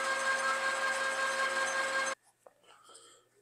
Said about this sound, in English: So we're going to put this in the lathe. I'm going to turn these down.